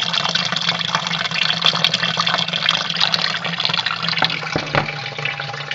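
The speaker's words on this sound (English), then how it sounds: "So what I'm doing now is just collecting my first runnings" Beer wort, the first runnings, draining from the mash into a vessel during home brewing, a steady close splashing pour of liquid with continuous trickling and no talk.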